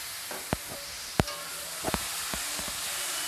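Tomato puree sizzles and hisses steadily in a hot pan of spiced curry for a mix veg kofta dish, with a few sharp spatters and clicks popping through the frying.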